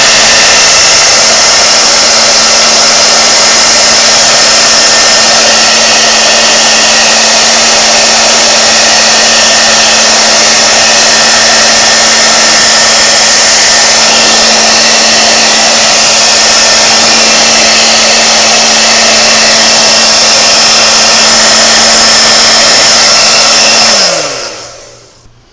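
A loud, steady blower roars continuously up close while drying freshly cleaned Singer 404 sewing machine parts, holding a constant pitch for over twenty seconds before winding down at the end.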